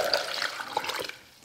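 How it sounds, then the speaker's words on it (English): Five cups of water pour into a Vitamix blender that holds whole citrus wedges, a short splashing gush that fades away within about a second. "And then we're gonna add 5 cups of water"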